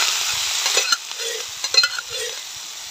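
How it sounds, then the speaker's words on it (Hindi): Fenugreek, nigella and fennel seeds are tempered in hot mustard oil in a wok, giving a steady, close sizzle with a few sharp clinks of stirring scattered through it. "कढ़ाई में डालेंगे सरसों का तेल, मंगरेल मेथी सौंफ का तड़का लगाना है।"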